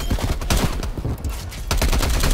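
Rapid gunfire in Call of Duty Cold War multiplayer, dense bursts of automatic shots and overlapping cracks, loud and close, with brief pauses between volleys.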